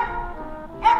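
A pet dog gives a single short, sharp bark at the end, loud and close, after a stretch of quieter background noise.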